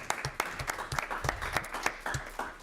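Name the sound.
applause for Dale Stephens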